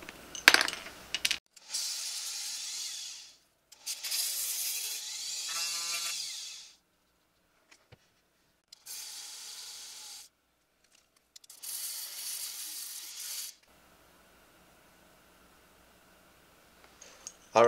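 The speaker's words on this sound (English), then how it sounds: "I've got another Dremel sanding wheel with electric tape prepared that fits these rings" A Dremel sanding wheel wrapped in electric tape sanding carbon fiber rings, with several separate bursts of high, hissing grinding, each lasting one to three seconds. Quiet gaps fall between them, with light clicks and handling noises.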